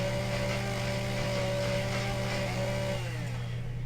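A chainsaw in the video game Empyrion cuts trees with a steady droning motor whine and a sustained tonal buzz that cuts off near the end, heard alone.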